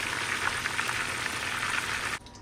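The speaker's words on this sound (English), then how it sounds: "so I finished frying the chickens" Chicken pieces fry in a pan for a Jamaican stew chicken recipe, a dense close crackling sizzle that cuts off abruptly near the end.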